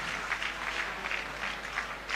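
Audience applause at a live televised fundraising pledge event, a dense, steady patter of many hands clapping at moderate distance, continuous throughout with a few louder bursts and no talk over it.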